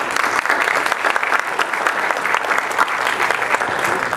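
Enthusiastic applause from the audience at a 2021 senior awards ceremony, a loud, dense and steady roar of many clapping hands that continues unbroken for the whole stretch.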